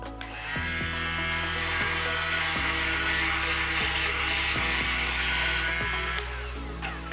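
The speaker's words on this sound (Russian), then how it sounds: "Сами края мы тоже зашлифуем." Electric power sander with a narrow nose attachment working along the edges of a wooden flower box, a loud continuous high whine that shifts pitch every second or so as the pressure on the wood changes.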